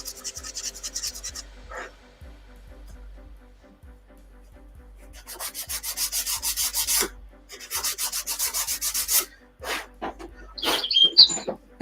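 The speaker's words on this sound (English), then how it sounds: "I just gave it a pretty good sanding around the edges." Hand sanding along the edges of a wooden craft piece, bursts of scratchy rubbing strokes of varying length that grow louder toward the end, with faint low tapping and a brief chirp-like squeak.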